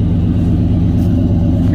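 A 1991 Chevy 1500 Sport pickup's engine idles steadily through its exhaust tips while still cold, a deep continuous rumble heard up close with no talk.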